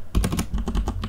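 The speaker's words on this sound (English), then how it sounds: "keyboard, and then type in" Rapid keystrokes clatter on a computer keyboard, a quick burst of close, crisp taps with no talking.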